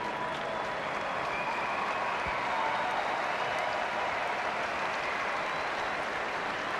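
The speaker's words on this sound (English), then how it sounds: "he's had a rousing bit of applause from the local fans" Sustained, dense applause from local rugby fans in a stadium crowd during a Sunwolves versus Bulls Super Rugby match, a steady even roar of clapping that holds at one level throughout.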